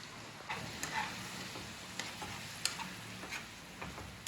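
Masala and small shallots sauté gently for a mutton liver gravy, a faint soft sizzle with intermittent light stirring ticks against the pan.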